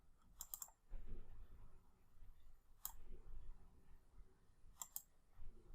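A computer mouse gives quiet sharp clicks in three small bursts a couple of seconds apart, with soft low rustling from the mouse moving between them.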